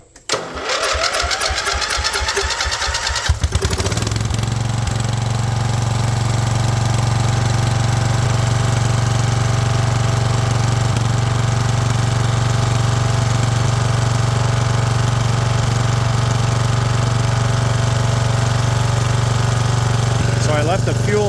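A Wheel Horse 211-5 lawn tractor engine starts after a few seconds of cranking and then runs steadily with a loud, close, rhythmic thumping idle that continues without a break.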